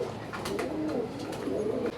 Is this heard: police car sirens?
no